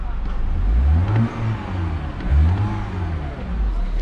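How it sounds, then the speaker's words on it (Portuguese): A BMW turbo engine revs up in two swells, close and loud, with a low rumble that climbs and falls back between bursts. "Ó o turbo."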